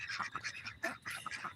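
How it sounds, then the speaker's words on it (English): Farm ducks quacking continuously in a busy, agitated chorus, close and fairly loud, with overlapping calls throughout. "And the ducks are quacking."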